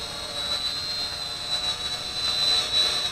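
A remote-controlled drone flies near flamingos at Larnaca salt lake, giving off a steady, close, high-pitched motor whine with a constant droning hum and no voices.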